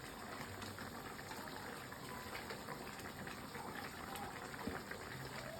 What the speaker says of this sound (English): Now our stew chicken is simmering.